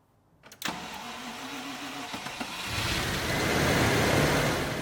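A Range Rover starts up in a workshop: a sharp crank and catch, then a steady mid-pitched idle that swells louder as it pulls away, close by with no talking.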